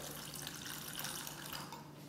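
Water poured into a rum dipping liqueur for an Italian zuppa inglese trifle, a brief, steady, quiet stream of liquid running without a break.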